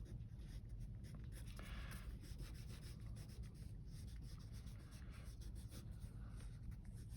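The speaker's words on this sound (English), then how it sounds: "I'm going to write wacky machine" Hand writing on paper, a continuous close scratching and rubbing of the pen with quick repeated strokes, heard alone without any talking.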